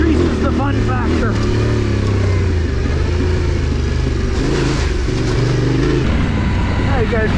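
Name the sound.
Yamaha Tenere adventure motorcycle riding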